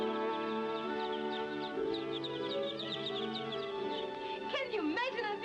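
Chicks hatching from eggs in an incubator, with a steady chorus of high cheeping and clucking fowl sounds running throughout, close and continuous, under a low hum.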